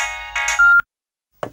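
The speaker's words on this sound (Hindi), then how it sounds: "वो दाऊ जी के फोन आ रही से" A mobile phone rings with an incoming call in a Chhattisgarhi comedy film scene: a loud, tonal electronic ringtone plays, cuts off abruptly into silence, then resumes with a couple of short bursts.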